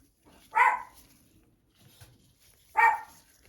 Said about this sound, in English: don't know what he's barking at now.